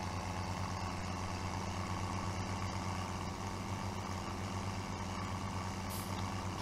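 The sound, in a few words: farm vehicle driving, from video game Farming Simulator 17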